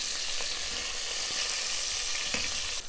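Beef sizzles steadily in an Instant Pot Rio on saute mode, a close, continuous frying hiss with faint crackles and no talking.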